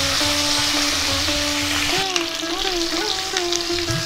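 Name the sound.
fish frying in a pan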